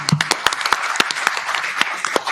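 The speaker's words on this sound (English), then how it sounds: "please give it up for our debaters. Big round of applause." Loud, close applause for the debaters at a conference debate, with a few sharp individual claps standing out above the crowd's steady clapping.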